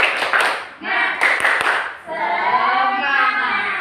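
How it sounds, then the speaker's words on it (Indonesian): Children in an Indonesian classroom perform a rhythmic spirit clap, tepuk semangat, with sharp hand claps mixed with children's chanting voices, starting loud, briefly dipping, then continuing as sustained group vocalizing. "Tepuk semangat."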